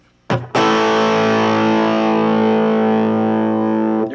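An electric guitar chord rings out through a cheap $100 amp with the gain turned down for lighter distortion, struck after a brief scrape and sustained loudly for several seconds before fading slightly.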